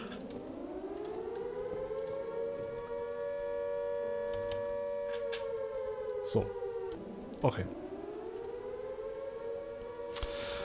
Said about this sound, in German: Hörst du die Sirene?